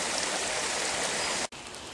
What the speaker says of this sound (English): Normally this is quite a narrow little stream